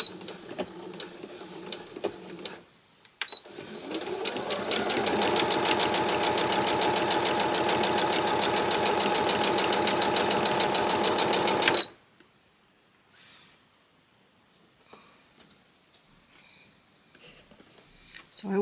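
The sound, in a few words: sewing machine stitching quilt pieces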